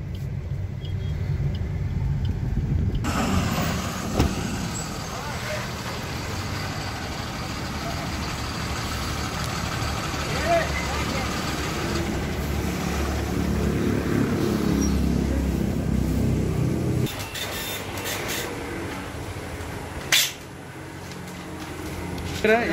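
Loaded gravel truck moving onto a stone-weighing weighbridge, a steady loud diesel engine rumble close by with a few clanks and thumps toward the end.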